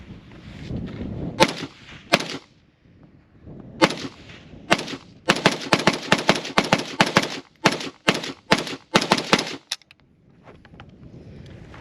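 A Galil ACE Gar37 rifle firing 7.62x39 rounds, loud sharp shots: a few spaced single shots, then a quick run of rapid repeated shots, close and dominant with no talk.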